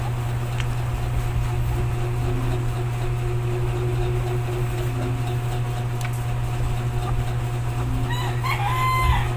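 A five-month-old bulik stag rooster is heard clucking and crowing near the end, close by, over a steady electrical hum and low background noise with no talking.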